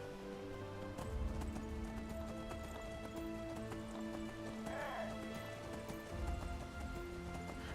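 Donkey hooves trotting in a video game make a steady clip-clop at moderate distance, with a soft ambient bed and a brief whinny-like call partway through.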